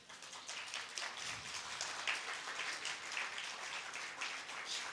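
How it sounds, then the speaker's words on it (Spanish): A church congregation clapping, a dense, steady spread of hand claps that sounds somewhat distant and evenly sustained throughout. "denle un fuerte aplauso al Señor"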